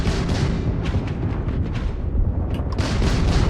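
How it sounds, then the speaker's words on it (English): Sustained combat gunfire in a Starfield combat simulation, dense overlapping shots and booms rolling continuously at high loudness with no clear gaps, the barrage crowding out everything else. "Start shooting as soon as they show up."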